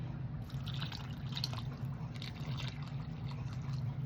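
Water is poured into a planting hole in the soil, making soft dripping and trickling sounds that run faintly and continuously over a low background hum.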